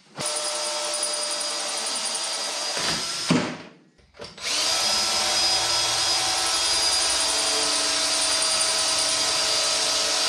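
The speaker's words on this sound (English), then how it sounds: "we're gonna drill through these holes that I made so everything lines up and I can just thread it into the bottom sandwich plate" A power drill bores through pre-made holes in a sheet-metal sandwich plate for a Pullmax, a loud steady whine that stops briefly midway, spins back up and then runs on continuously, close up with no talk.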